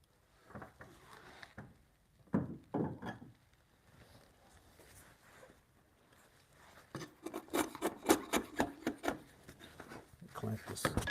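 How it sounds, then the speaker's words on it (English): Small hand-sharpened chisel working timber for a hand-cut bunk bed joint in a home workshop, giving close scraping and rasping strokes in bursts, busiest toward the end, with quiet pauses between. "I'm gonna get one of my little small chisels here."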